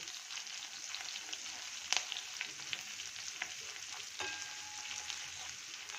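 Crushed garlic and green chilli frying in hot oil for a Gujarati banana curry, with a continuous fine crackle and a few sharp pops and spoon clinks, close and moderately loud.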